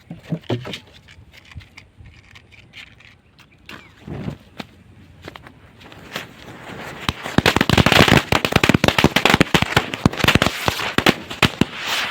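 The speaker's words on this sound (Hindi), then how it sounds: "और गाइस ये है हमारा बिजली क्रैकर्स, अब इसको भी चलाते हैं" A bijli firecracker being tested outdoors: a long, dense string of loud, rapid cracking bangs that builds after a few scattered pops and keeps rattling near and loud to the end.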